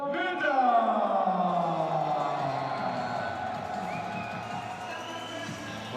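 Crowd of supporters cheering and whooping for fighter Sofiane at a Thai boxing event hall, a loud sustained roar with shouting voices that slowly fades.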